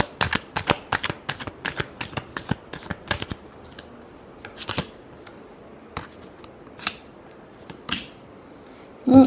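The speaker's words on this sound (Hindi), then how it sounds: "last shuffle" Playing cards are shuffled during a tarot-style horoscope reading: a rapid run of crisp riffling snaps comes first, then slower, scattered flicks and taps, all close and clear with no voices.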